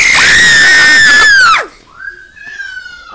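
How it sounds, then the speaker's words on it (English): Loud, shrill screaming during a heated round of the game Will Hero, one sustained high-pitched scream for about a second and a half, then a quieter wavering cry trailing off alone. "Stop screaming for once and for all."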